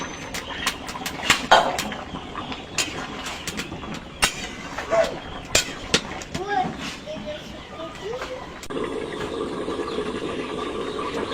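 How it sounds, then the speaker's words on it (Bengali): Fried potatoes going into a pot of desi chicken curry: a run of sharp metallic clanks and soft thuds from a utensil against the pot, close by, while a person talks. "এবার আমি এতে ভাজা আলুটা দিয়ে দেবো।"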